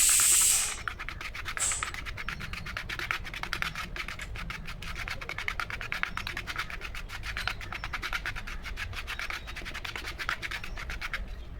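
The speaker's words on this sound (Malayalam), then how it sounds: "അപ്പോൾ അത് നമ്മൾ കറക്റ്റ് അളവിന് ഒന്ന് മിക്സ് ചെയ്തെടുക്കണം നന്നായിട്ട്." Two-part epoxy resin being stirred and mixed in a container, a steady close scraping and rubbing texture that continues without pause, with no talking.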